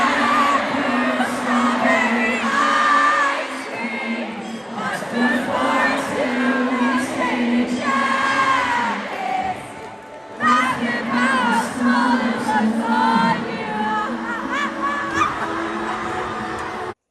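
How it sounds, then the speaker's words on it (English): Loud concert crowd at Jingle Ball 2023 cheering, whooping and yelling continuously, with a brief dip before the roar swells again, voices shouting throughout. "Like the crowd was so loud."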